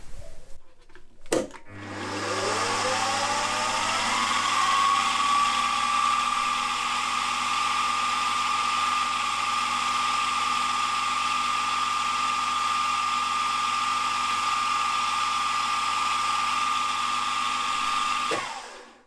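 A steady high-pitched whine of a number 60 (0.040 in) drill bit held in an ER11 collet chuck, drilling on a lathe, runs continuously for many seconds, loud and close, after a brief spin-up.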